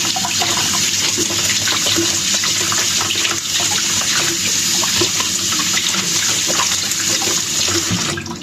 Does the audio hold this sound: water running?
yes